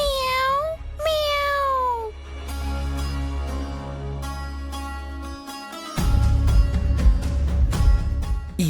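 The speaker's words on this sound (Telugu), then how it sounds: "ఈ దొంగ పిల్లి ఎక్కువైపోయి" A cat meows twice in rising-falling calls near the start, then musical tones and a dramatic soundtrack take over, with no talking.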